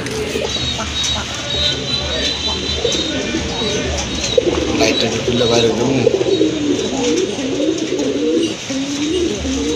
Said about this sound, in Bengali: আরেক জোড়া রাসগোল্লা কবুতর, দেখার মতো অস্থির একটা কালার, খুবই চমৎকার।